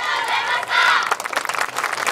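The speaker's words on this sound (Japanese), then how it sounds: "大きい拍手お願いいたします" An outdoor crowd at the Tohoku Dance Festival in Kotodai Park cheers and shouts for a high school dance team, a brief rising yell giving way to brisk, busy clapping that carries on to the end.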